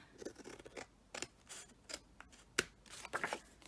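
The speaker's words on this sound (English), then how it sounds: "And just cut this bit off here." Scissors snip through a piece of card during card-making, producing a series of crisp, close cuts in an irregular rhythm, with quiet paper rustling between them.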